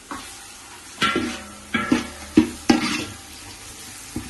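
Dried red chillies frying in oil for mutton biryani, a low sizzle punctuated by four or five distinct scraping stirs and clinks against the pot, close and without talking.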